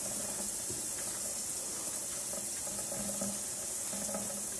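Running water rinses soap off a dog during a bath, a steady close hiss and splash that pours continuously, with no talk.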